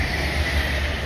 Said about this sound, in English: here comes the next Avanti West Coast service, running from Edinburgh to London Euston